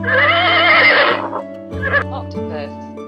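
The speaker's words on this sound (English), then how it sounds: "Horse, horse, horse," A horse whinnies loudly for about a second, its high wavering neigh sliding down, followed by softer snorts and shorter whinnies over a low steady hum.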